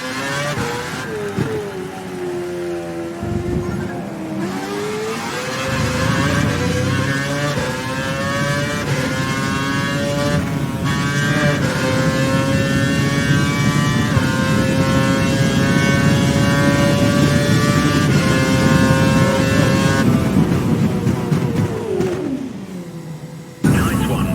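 An F1 car in F1 2012 accelerates hard, its high-pitched engine whine climbing through the revs, dipping at gear changes and holding a loud, close, sustained scream before dropping away near the end.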